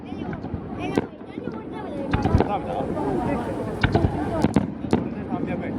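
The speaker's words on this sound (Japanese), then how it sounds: "花火やってる。" A fireworks display over the Kano River in Numazu, with sharp bangs and crackles going off at irregular intervals at a moderate distance, mixed with nearby people talking and crowd chatter.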